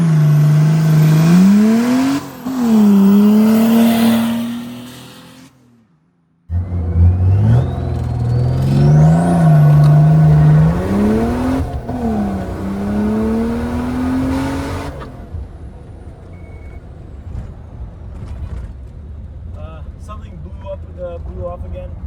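A turbo diesel Mercedes 380SL on a 0-60 run roars loudly and close, revving up through rising pitch sweeps with short gear-change dips and a brief cutout, then easing off into a quieter idle-like drone.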